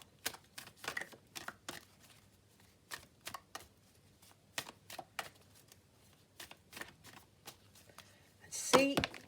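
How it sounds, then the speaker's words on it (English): A deck of tarot cards being shuffled up close, heard as a series of soft, papery taps and riffles in an irregular rhythm, with a brief voice at the very end. "So I'm just going to have a little shuffle of Brian's deck."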